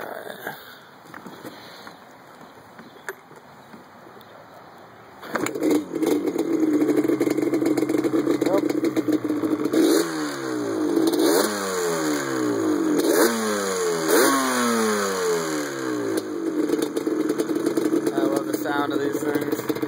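A 1987 Yamaha Banshee with older aftermarket DG pipes starts cold after quiet handling noises, then idles loudly with a rough two-stroke burble and several rising revs, close by with a voice now and then.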